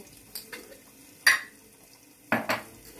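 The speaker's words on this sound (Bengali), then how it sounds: "এবার ওটা ভালো করে ভাজা হবে।" Boiled potatoes with powdered spices, salt, turmeric, coriander and cumin, are stirred in a pan, giving a few distinct clanks and scrapes of a spatula against metal over a faint sizzle, with no speech.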